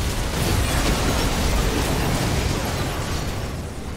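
A turret in the League of Legends video game is destroyed with a loud, sustained crumbling explosion that roars steadily for several seconds and then slowly fades.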